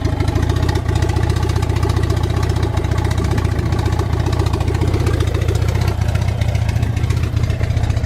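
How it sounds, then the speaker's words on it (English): A turbocharged B20V Honda Integra engine idles with a steady, throbbing rumble, close and continuous throughout, with no talking. "It's holding idle at least."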